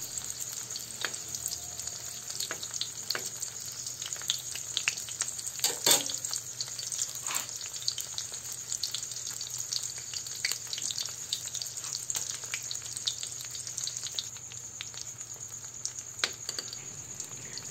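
Dynamite lumpia sizzle in hot oil until golden brown, a continuous crackling fry at moderate level with occasional sharper pops and clinks.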